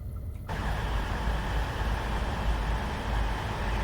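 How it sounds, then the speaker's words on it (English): A passing train in the Train Simulator game on the Chiltern Main Line, a steady broadband rumble and rush after a brief quieter start, continuous and fairly close, with no talk over it. "Oh, train coming another way."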